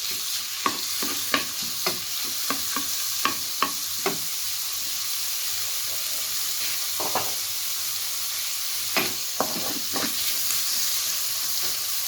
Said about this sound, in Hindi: अब दोबारा ऑयल थोड़ा सा ऐड करेंगे और ये चिकन जो है ये इसमें ऐड कर देंगे